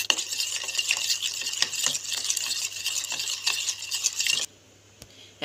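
Mango pulp and powdered sugar are stirred in a bowl, a rapid rhythmic scraping and swishing of a spoon for several seconds close up, then stopping abruptly into near quiet.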